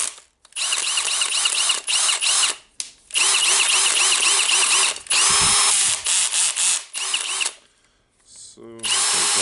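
A Milwaukee M18 BLPD cordless drill whirs loudly up close in repeated bursts after cleaning and reassembly, its motor revving and stopping between runs with a brief ratcheting clutch near the end.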